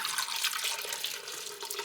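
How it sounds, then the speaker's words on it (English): Six cups of chicken stock pour steadily into a large pot for chicken and dumplings, a continuous bright splashing liquid stream heard close up with no talking. "I've got 6 cups of just chicken stock. We're going to pour that in."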